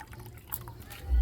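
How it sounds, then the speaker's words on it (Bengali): Potatoes being rinsed in a bowl of clean water, with soft sloshing and trickling close by, building to a louder splash at the end. "এইভাবে বারবার করে দুবার আমি পরিষ্কার জলে ধুয়ে নিচ্ছে"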